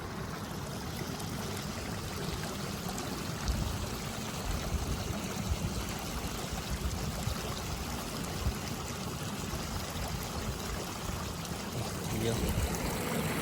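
Irrigation water flows into a Punjab sugarcane field during its second watering. The flow gives a steady, low, continuous gurgle and rush with no breaks, heard from close by, with faint voices possible in the background.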